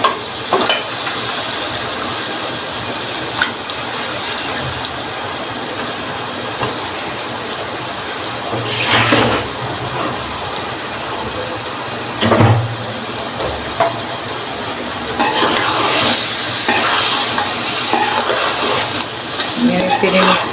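Chicken fries in a spiced masala with a close, continuous sizzle, broken by louder bursts of scraping and stirring in the pan.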